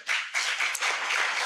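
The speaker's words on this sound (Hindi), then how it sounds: "जोर से ताली दो भाई" Listeners at an evening Hindi spiritual discourse clap in a few short rolling bursts, with brief dips between waves of applause.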